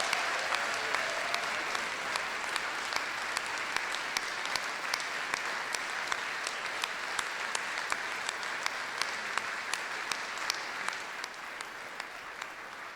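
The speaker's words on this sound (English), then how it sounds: "can I ask for a round of applause for our magnificent brass players?" An audience at a music college awards ceremony gives a long, steady round of applause for the brass players, dense clapping with sharp individual claps standing out throughout, easing slightly at the end.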